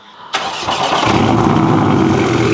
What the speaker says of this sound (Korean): 시동을 한번 켜서 배기음 스포츠카답게 우렁찬지 일단 한번 시동 켜볼게요